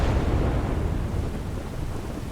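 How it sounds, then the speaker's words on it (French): Thunderstorm at the start of a Fairy Tail video game, a deep continuous rumble of thunder rolling and slowly fading, loud and alone without speech. "De l'orage."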